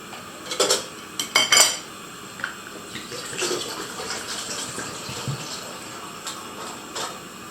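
Metal clanks from a kettle being handled on a single-burner camping stove, then a steady stream of 500 ml of cold water pours in with a soft, continuous splashing rush.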